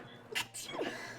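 A single close sneeze, a quick intake followed by a sharp burst, with a faint voice murmuring just after.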